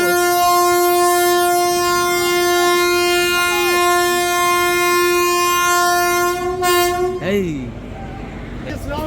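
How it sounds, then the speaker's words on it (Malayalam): A train passes close by with a long, loud sustained horn blast lasting several seconds, then the rumble and clatter of the cars rolling past. "നമ്മുടെ ട്രെയിൻ അങ്ങനെ പോയിട്ട്"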